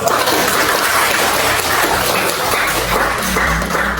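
Audience applause in a classroom presentation setting, a dense, continuous wash of clapping from many hands, loud and close, lasting the whole stretch without pause.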